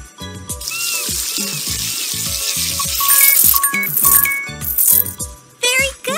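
In a kids' hair salon video game, a hissing rush of running water rinses the hair over bouncy, plinking game music. The water is loud and close for several seconds, then cuts off as chiming effects play.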